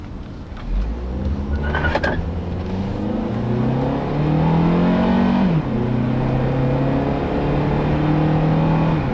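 A 2007 Honda Accord EX-L pulls away on a test drive, its engine note climbing loudly through the revs, dipping at a shift, then climbing again in a steady, close-up drone.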